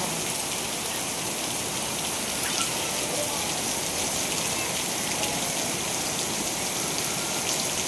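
Heavy rain pours down steadily, a dense, continuous hiss of drops drumming on surfaces, loud and unbroken throughout.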